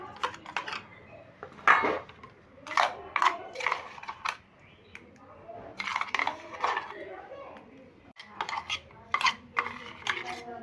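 Metal utensils clink and clatter in a home kitchen as a dal press is pulled out and handled, with sharp irregular knocks and scrapes close by.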